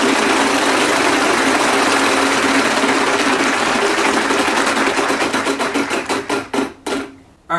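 A Wheel of Fortune wheel is spun during a home game-night recreation. Loud rapid ratcheting clicks blur together, then slow into distinct ticks that space out before stopping.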